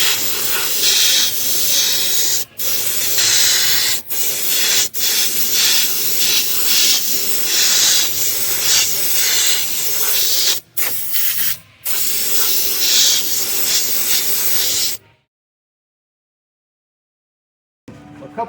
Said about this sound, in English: So now I can go back and do a little bit more airbrushing in there